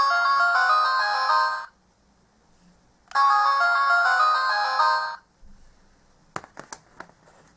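Old version of a Sailor Moon Moon Stick toy wand playing its electronic melodies through a small speaker, two bright chiming phrases separated by a pause, followed by a few handling clicks.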